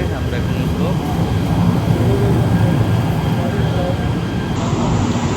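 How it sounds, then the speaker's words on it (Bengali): A train arrives at a station with a steady low rumble and mechanical noise that fills the scene, loud and continuous, with voices faintly mixed in. "ট্রেন আসছে"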